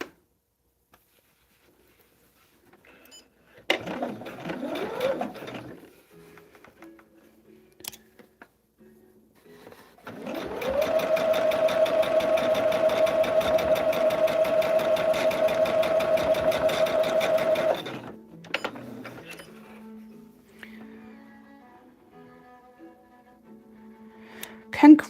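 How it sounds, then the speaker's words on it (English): Sewing machine running a normal-length straight stitch along a line on a table runner, a steady continuous whir lasting about seven seconds, framed by quieter handling noises before and after. "And you just sew on that line. Normal stitch length."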